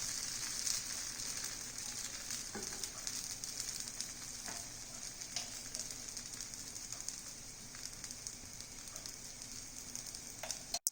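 Moong dal dosa (pesarattu) batter sizzles steadily on a hot pan, a soft continuous crackle and hiss with small pops, close and fairly quiet throughout.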